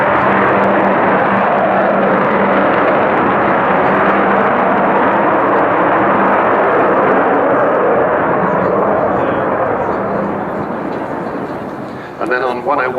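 A loud, sustained roar from the 52-year-old Avro Vulcan XH558 bomber, formerly of the Waddington-based squadrons, flying a solo display, holding a broad heavy rumble before fading slightly near the end.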